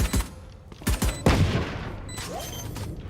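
Gunfire in the shooter game Valorant during a pro match, several sharp separate shots in quick succession, loud and close, followed by a trailing ring and fainter distant reports.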